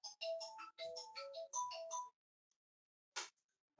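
A phone ringtone plays a bright, repeating electronic melody of quick notes for about two seconds, fairly quiet and alone, followed by brief hisses of noise.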